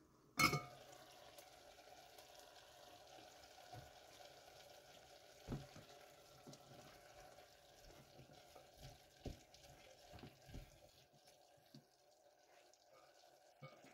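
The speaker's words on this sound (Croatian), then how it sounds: "idemo još malo da dinstamo ovo sve povrće" Vegetables braise in a full pot for spinach soup, with a soft steady simmer and sizzle broken by occasional utensil knocks and stirring clatter, quiet and close.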